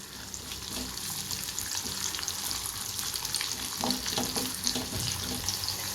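Cut onion sautés in oil left over from frying fish for a fish kulambu, a steady low sizzle and crackle with occasional stirring scrapes, fairly quiet and continuous throughout.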